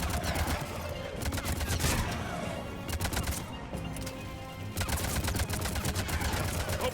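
Gunfire in the video game Mass Effect 3: dense bursts of rapid shots and fusillades in clustered volleys, loud and close, with brief lulls between bursts.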